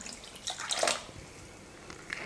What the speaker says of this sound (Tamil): 3/4 கப் தண்ணி சேர்த்துக்கிறேன்.